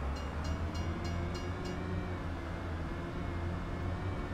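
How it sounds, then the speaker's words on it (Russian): A train rolls along in Farming Simulator 25, a steady low rumble of wagons on rails with faint high ticks early on, continuous and moderately close with no talk. "Тут, конечно, поезд более-менее реалистично работает."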